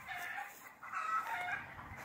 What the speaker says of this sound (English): Dude, those chickens over there are going crazy.